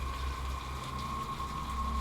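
Steady rain pours down at night in the middle of nowhere, a constant even hiss with a low rumble and no voices.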